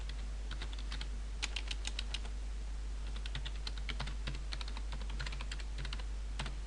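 Keys clatter on a computer keyboard in a steady, rapid run of clicks as a folder name is typed, heard alone over a low electrical hum.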